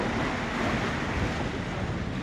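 Strong wind and high waves batter a fishing boat at sea on the Philippine Rise, a loud, steady roar of rushing wind and surging water with heavy wind buffeting on the microphone and no voices.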